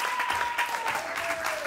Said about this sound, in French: Est-ce que vous pouvez faire un tonnerre d'applaudissements pour mon père, s'il vous plaît?